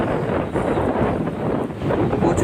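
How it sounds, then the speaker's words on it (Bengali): Strong stormy gusts from Cyclone Remal sweeping over the Rupnarayan river, heard as a rumbling, buffeting wind roar on the microphone that surges and eases over a few seconds. "প্রচুর বাতাস, প্রচুর ঝড়ো বাতাস"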